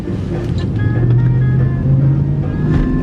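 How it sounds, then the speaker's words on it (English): Low, steady humming exhaust note of a 2004 Dodge Ram 1500 Laramie single cab with HEMI V8 and dual exhaust, idling or cruising evenly and close by for about three seconds, moderately loud with no talk. "the dual exhaust system shots very fun, but not super loud, just a very low humming exhaust note"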